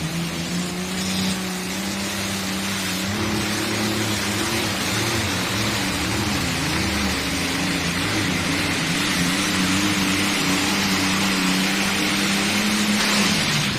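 High-powered engines at a Thunder in the Valley event in Rock Valley, Iowa, a loud continuous roar with rising and falling pitch as revs climb, heard close for the whole stretch with no talking.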